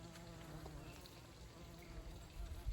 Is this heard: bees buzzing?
yes